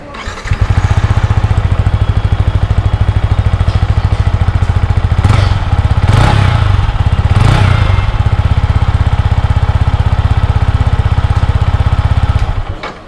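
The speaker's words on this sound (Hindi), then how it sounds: "अभी करेंगे हम लोग इस बाइक का एग्जॉस्ट नोट को चेक करेंगे, देखेंगे कैसे एग्जॉस्ट नोट हमें इस बाइक में देखने को मिलता है।" A Yamaha R15M motorcycle's exhaust note, loud and close, with a steady rapid-firing idle that rises in three brief revs before settling and cutting off at the end.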